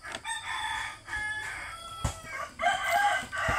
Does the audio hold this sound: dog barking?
no